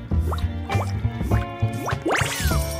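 A pet drinks water in Roblox Adopt Me, a series of four or five bubbly, rising gulping drips in steady rhythm, clear and close, with no talk over them.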